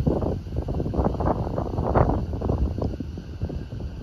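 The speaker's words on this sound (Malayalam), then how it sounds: "നല്ല കാറ്റുണ്ടേ, നല്ല ഇളം കാറ്റിങ്ങനെ വീശിക്കൊണ്ടിരിക്കുക" Wind gusts steadily across a grassy hilltop at Vagamon, buffeting the microphone in a continuous low rumble with rising and falling surges and no voices.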